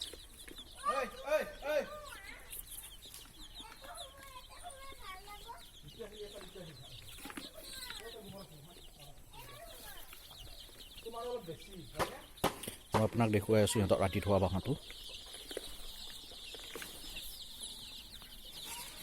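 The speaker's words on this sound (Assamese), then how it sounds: "এইকেইটা মোৰ ডাঙৰ মুৰ্গী" Local hens kept indoors in a spare room cluck and murmur on and off, fairly close, with a short burst of louder calling near the end while a person talks over them.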